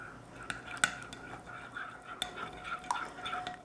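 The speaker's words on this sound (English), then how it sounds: "So I'm going to stir this together and of course combine it with the dry ingredients." Wet batter for sticky bun pumpkin muffins being stirred in a bowl, giving soft, close scraping and swishing strokes with a few light clinks of utensil against the dish.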